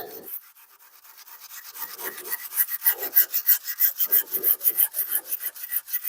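A wire brush scrubs dirt and grime out of a split in a wooden brush axe handle, making rhythmic, close, rasping strokes that start faint and grow louder and faster, with no talk.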